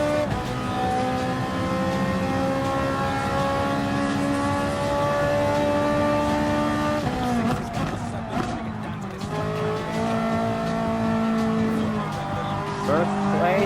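Ferrari 458 Italia GT3 racing in Gran Turismo Sport, a loud sustained engine note that climbs through gears, drops sharply and builds again, with brief tire squeal around the change.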